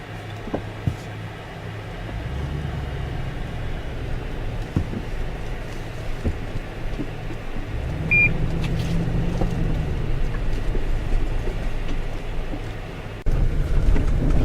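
A 2014 Lexus SUV, either an RX350 or an LX570, crawls off-road over rocks with raised suspension. A steady engine rumble rises and falls, and occasional knocks and thumps come from the rough ground.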